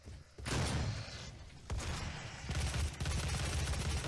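Gauss cannon and chain gun fire in the video game DOOM, loud bursts of heavy weapon fire with sharp blasts and sustained rattling, filling the clip with brief drops between volleys.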